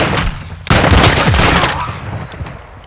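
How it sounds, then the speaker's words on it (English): Pistol gunshots in the video game Call of Duty DMZ: a sharp burst of shots following a short lull, loud and close, then trailing off into fading echo. "I need one last headshot with this fucking pistol."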